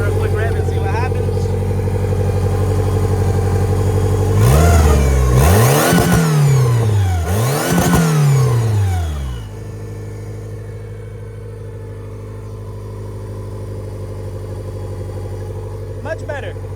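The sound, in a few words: turbo Honda Civic GSR engine revving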